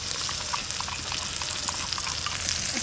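Spice paste with sour curd sizzling in hot oil in a pan while being stirred, a bright steady crackle with soft scraping, close and alone.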